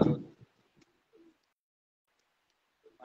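Black-faced pigeons perched on a rooftop in Sialkot give a few soft, low coos, with a louder burst at the very start and brief scattered calls amid near silence.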